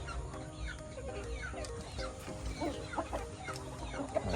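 Chickens cluck in a backyard farm, with several short, scattered calls from hens close by over a low background murmur.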